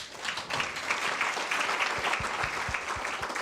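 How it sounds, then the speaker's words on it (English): Audience applause for panelists at an accounting sciences symposium and book launch, steady and dense throughout, with a few louder low thumps near the end. "Round of applause to our panelists."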